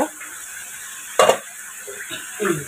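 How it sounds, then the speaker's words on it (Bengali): Potatoes and lentils drop into a hot pot, a sudden burst of clatter and sizzle midway, with a few scraping stirs after. "এই যে আমি আলু এবং ডালগুলো রেখেছি, এইগুলো আমি এখন দিয়ে দিব"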